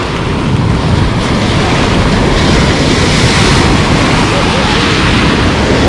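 Sea waves break on a stony beach at Lazurny beach in Lazarevskoye, a loud, continuous close-up wash of surf with wind rumbling against the microphone throughout.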